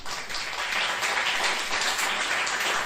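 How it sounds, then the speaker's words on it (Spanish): A church congregation breaks into applause, a dense, steady wash of many hands clapping together, fairly loud and filling the hall throughout. "Un aplauso a la Lorena"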